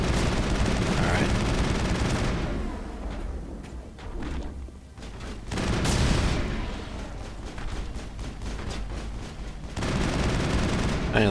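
Bursts of rapid gunfire and heavy blasts of explosive canisters in Mass Effect crackle loudly, pausing briefly in the middle before resuming, with no talking.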